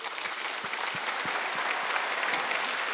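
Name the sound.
church congregation applauding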